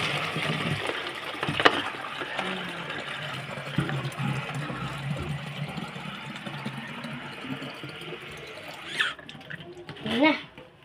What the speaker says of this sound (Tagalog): maglalagay tayo ng tubig kasi wala na silang tubig